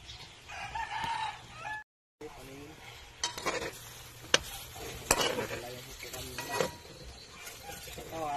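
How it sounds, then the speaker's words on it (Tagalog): A pot of simmering pork humba is stirred, with soft scraping strokes over a bubbling sizzle, while a rooster crows in the background and a voice speaks occasionally. "ngayon ang gagawin ko ay halo-haloin ko muna"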